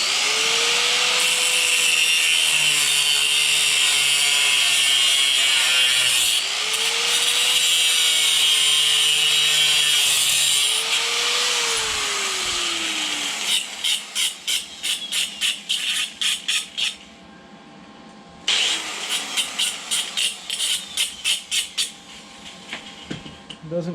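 A cut-off wheel grinds through a steel motorcycle fender with a loud, sustained high screech. The whine dips as the disc bites, then gives way to short, rhythmic bursts of cutting with brief pauses.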